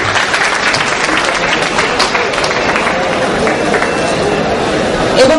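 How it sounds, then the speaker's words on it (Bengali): A packed audience at an IT fair breaks into dense, continuous applause that stays loud and even for the whole stretch, with crowd noise mixed in. "স্যারের জন্য জোরে একটি হাততালি।"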